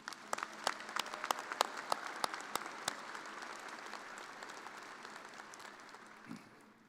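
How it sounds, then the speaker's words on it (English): Applause for retiring staff at a spring university commencement in a coliseum, heard from a distance: scattered sharp claps build into a steady, moderately faint wash of clapping across the arena that slowly thins out. "Let's give them a round of applause."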